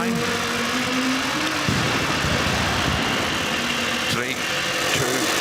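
A Toyota Yaris Rally 2 rally car idles on the start line of a forest rally stage, its engine rumbling loudly and close with uneven throttle blips, while crowd noise and talk carry underneath.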